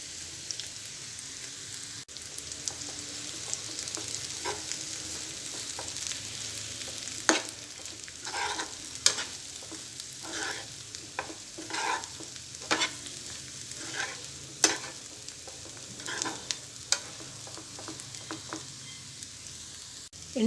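A spatula scrapes and stirs fried drumsticks in a pan as ground dry coconut and dried red chili powder are mixed in, with irregular clinks and taps over a soft continuous sizzle, close and without talk.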